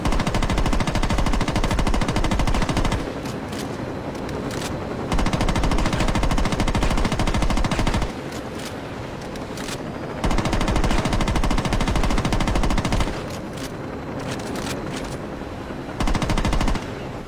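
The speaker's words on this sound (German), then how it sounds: "Egal, den erledige ich mit meinem Sturmgewehr." Assault rifle fire in the video game Saints Row 2 comes as long, loud, rapid automatic bursts, about four of them, with brief lulls between, and no talk.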